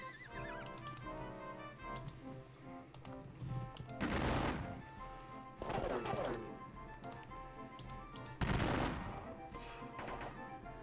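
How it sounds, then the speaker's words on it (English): Musket volleys from a Waterloo-era wargame ring out as loud broadband bursts at roughly four, six and eight and a half seconds, over a steady backdrop of battle ambience with horse whinnies and neighing. "Units that can shoot will shoot."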